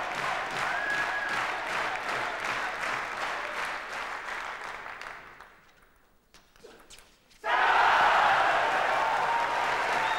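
A crowd applauds at a 1998 Bundesliga table tennis match between Petr Korbel and Ding Yi, dense loud clapping that fades to near quiet, then bursts back in full and sustained, filling the hall.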